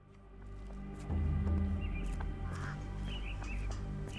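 Caged mynah birds in the Sherlock Holmes The Awakened video game give short faint chirps and calls over a steady low game hum, with no talking.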